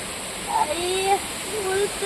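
Steady rush of flowing stream water, close and continuous, with a faint voice briefly audible beneath it.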